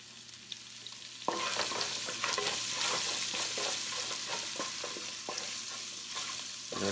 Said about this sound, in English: Let that saute in the Epis for about 30 seconds